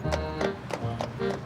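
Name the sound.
horse's hooves clip-clopping, pulling a landau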